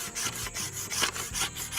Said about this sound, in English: I'll go in there with this paint scraper.